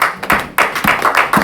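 A church congregation claps in acclaim during a Sunday sermon, a loud close burst of many hands with uneven surges, continuous for the whole stretch without speech.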